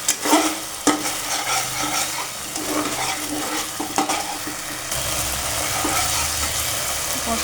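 A soybean and potato curry with tomato sauce is stirred in a frying pan, giving repeated scraping strokes and knocks over a continuous sizzle that grows steadier and louder near the end.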